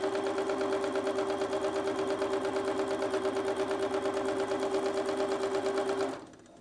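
A sewing machine runs steadily while chain piecing quilt pieces, a close, even mechanical whir with fast regular stitching pulses that continues for about six seconds before stopping abruptly.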